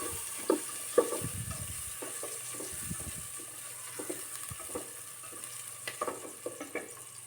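Polao rice frying in a pan, a soft, continuous low sizzle with scattered clicks and scrapes of stirring, close and fairly quiet.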